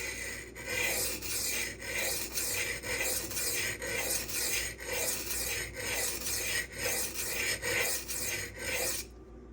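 A Custom Knife Factory Evo 3.0 knife blade is drawn across a sharpening stone at about 20 degrees in steady, evenly spaced rasping strokes, close and loud, one after another for nearly ten seconds with no talking.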